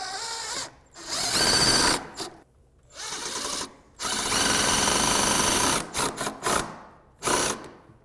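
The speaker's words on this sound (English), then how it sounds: "The pulse driver will be a little bit more quiet, so but either one will drive those screws and really lock them in there." A pulse driver sets screws into wood while building a DIY lounge chair and ottoman, giving several close, loud bursts of whirring and rattling impacts separated by short pauses.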